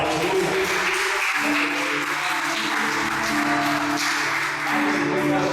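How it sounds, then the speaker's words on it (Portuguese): A church congregation claps at a Portuguese-language worship service, a dense, sustained wash of applause from many hands, with a voice and a musical tone sounding over it. "Louva o Senhor, uma salva de palmas."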